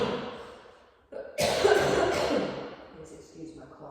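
A single harsh cough from an instructor during a hatha vinyasa yoga class, close and loud, following a quiet stretch of murmured speech.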